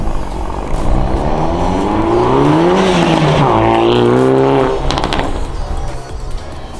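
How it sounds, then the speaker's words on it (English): Hyundai i30N, an earlier car without a GPF filter, running a Remus cat-back exhaust and a Piper Cross intake, revs hard and loud for several seconds with rising and falling engine pitch and crackling pops near the end. "We do get a lot of pops and bangs, as Jay will show you on a video."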